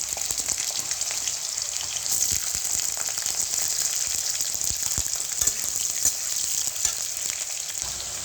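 Potatoes dropped into hot oil with nigella seeds and green chillies make a dense, loud, steady crackling sizzle, with sharp pops scattered throughout and no voices over it.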